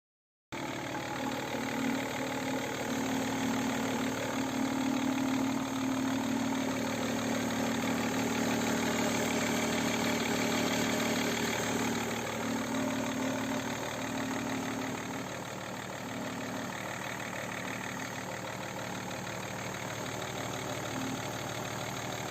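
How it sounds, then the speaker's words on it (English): A 20-year-old BMW E39 530d diesel engine idles steadily for a long stretch, a continuous mechanical hum with a faint rhythmic whirring from a worn fan belt. "Sounds to me that the fan belt is worn."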